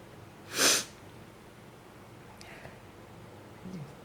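A single sharp, breathy sneeze bursts out close to the microphone, followed by faint sniffles and breathing in a quiet room.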